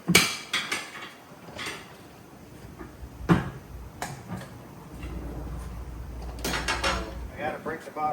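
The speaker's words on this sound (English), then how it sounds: "I gotta break the bottom bead." A hammer strikes a tire's bottom bead during a roadside tire service job: several sharp, close impacts at irregular intervals, with clanks and handling noise between them and faint voices in the background.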